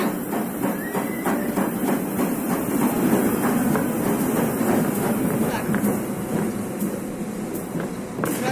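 A passenger train pulls in and halts at a station, its wheels giving a steady clickety-clack and rumble that fills the whole stretch at close range, with a single brief spoken word over it.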